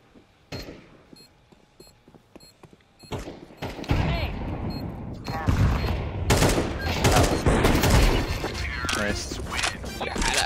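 Gunfire in Counter-Strike 2 on the Mirage map: a few scattered shots at first, then dense, loud bursts of rapid firing that build and continue, with players talking over the action.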